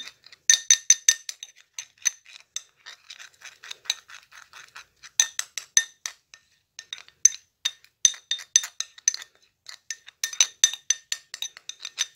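A homemade vinegar remedy mixture is stirred in a container, giving rapid, bright clinks and ticking scrapes of a utensil against glass. They come in uneven bursts with short pauses and are close and clear.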